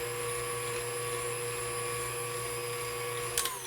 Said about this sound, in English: you're going to go ahead and give that a hit with the blender